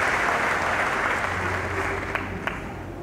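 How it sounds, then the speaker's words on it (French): Steady, dense audience applause for honoured religious figures at a Haitian event, sustained at even volume throughout, with a faint low hum underneath and a couple of sharper claps near the end. "Vous applaudissez ces courageuses personnalités, s'il vous plaît."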